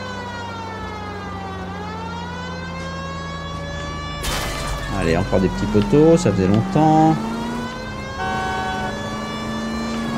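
Police car siren from the video game L.A. Noire wails continuously in steady rising and falling sweeps, with a busier burst of horn-like tones midway, while someone talks over it.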